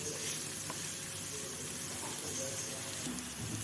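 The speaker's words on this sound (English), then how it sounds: "Adding in the onions to fry them for some time till they are soft" Onions softening in a hot pan, a steady soft sizzle with faint hissing crackle, close and continuous for a few seconds without talk.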